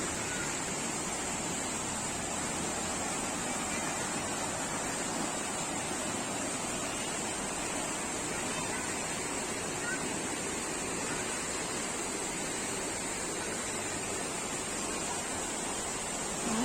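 A stream flows steadily beside a forest resort, a continuous broadband rush of water heard close and unchanging throughout, with no other sounds standing out.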